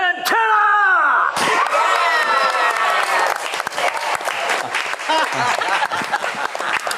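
A comic con convention crowd bursts into loud applause and cheering for the Bleach anime voice cast panel, steady clapping with whoops following a brief spoken line at the start.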